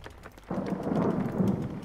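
Thunderstorm with rain in the driving game Jalopy: a quiet start gives way at half a second to a loud, steady rumble of thunder and heavy rain that fills the rest of the clip.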